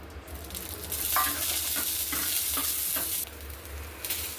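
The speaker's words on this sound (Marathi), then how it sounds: "मिरच्या थोडंसं तेल टाकून भाजायच्या।" Green chillies roasting in a little oil in a pan, a steady broadband sizzle with occasional scraping stirs, close and continuous with no talking.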